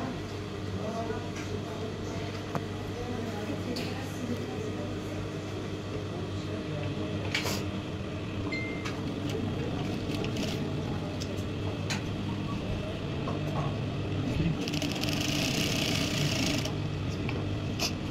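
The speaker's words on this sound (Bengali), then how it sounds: "এখন আমরা ডার্ট সুইং করব।" A sewing machine stitches a dart on a formal pant, giving a steady mechanical whir with occasional clicks and a brief hiss near the end, while a voice speaks quietly in the background.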